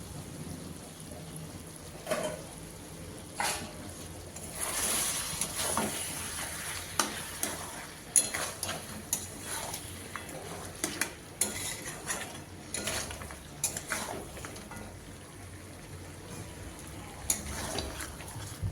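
Mutton vindaloo is stir-fried in a pan, with a continuous soft sizzle under repeated scraping and clattering strokes of a spatula against the metal, close up and with no one talking.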